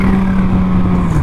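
A used Suzuki Hayabusa motorcycle with about 3,760 miles roars briefly under a hard rev, a loud, close engine burst with a steady high tone that dips slightly at the end.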